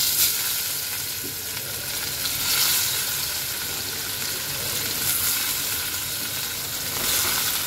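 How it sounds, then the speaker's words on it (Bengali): Chital fish frying in hot oil in a wok, a steady, dense sizzle and crackle that holds at an even level throughout, with slight swells in intensity and no voices. "মাছ ভাজার জন্য কড়াইতে আমি তেল গরম করতে বসিয়ে দিয়েছিলাম। এখন আমি এক এক করে মাছগুলি ছেড়ে"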